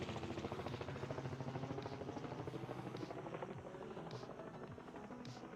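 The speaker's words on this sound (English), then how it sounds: "excuse me guys, helicopter." A helicopter passes overhead at an Australian site, its rotor thudding in a fast, steady pulse that stays loud and even throughout with no talking.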